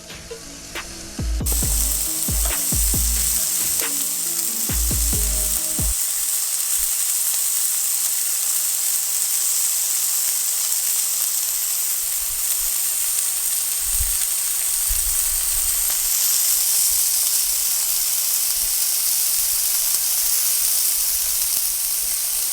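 A burger patty fries in a cast iron skillet with a loud, continuous close-up sizzle and hiss, preceded by a few low knocks and thumps in the opening seconds.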